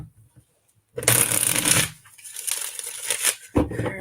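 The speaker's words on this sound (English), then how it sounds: "A couple shuffles for you." Osho Zen tarot cards being shuffled in a couple of loud riffling bursts at close range, separated by a pause with quiet background sound.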